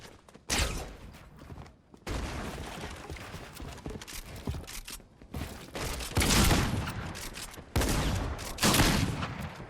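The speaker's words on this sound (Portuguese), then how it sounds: "basicamente isso é o som de um X1 no Fortnite." Rapid gunfire bursts from a Fortnite one-on-one fight, loud overlapping shots and clattering impacts in dense bursts with brief pauses, no talking.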